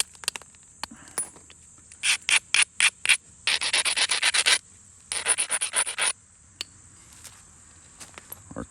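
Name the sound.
flint edge being beveled by abrading during flintknapping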